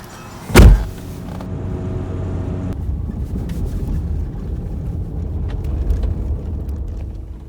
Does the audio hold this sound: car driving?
yes